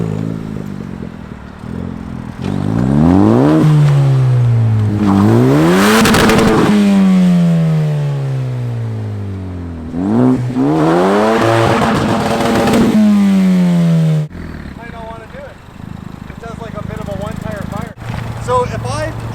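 Specter exotic car engine revving hard in repeated rising and falling sweeps, loud and close, with clatter as the wheels spin. People talk over it in a few spots.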